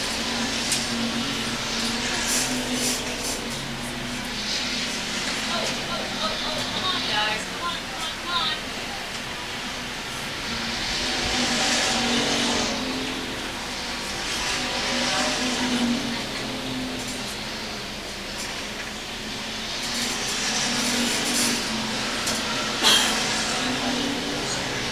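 IMCA race cars circling I-35 Speedway on a Saturday night, a steady roar of engines rising and falling as the pack passes, heard at a distance under continuous commentary from a race announcer.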